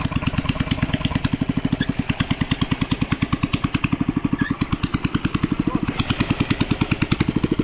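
A hand tractor engine chugs steadily in a flooded rice paddy, a fast, even single-cylinder thumping that runs loud and close throughout with no talk.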